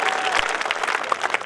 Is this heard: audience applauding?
yes